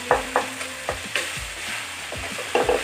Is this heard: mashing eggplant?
yes